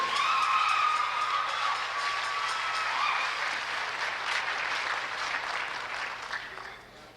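An audience at a folk group performance gives sustained applause, steady and fairly loud at first, then tapering off toward the end.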